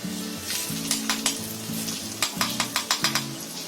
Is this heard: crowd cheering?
no